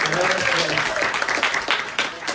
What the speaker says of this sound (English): let's give a round of applause for the musicians that work so hard to do the work